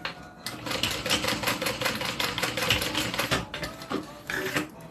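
A sewing machine top-stitches a fabric bag in rapid rhythmic bursts of needle chatter, close and clear, pausing briefly before resuming.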